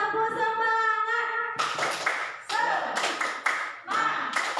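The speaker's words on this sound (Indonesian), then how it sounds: "Tepuk semangat!" A group claps along to a spirited chant, with sharp irregular bursts of close, loud hand claps mixed with cheering voices.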